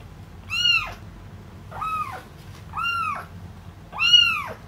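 A small kitten meows four times in an evenly spaced series, each cry rising then falling, close and fairly loud against a low background hum, with no one talking.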